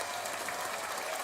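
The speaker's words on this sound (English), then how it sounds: "a round of applause for our trip" A round of applause from a small group, dense steady clapping at moderate volume throughout.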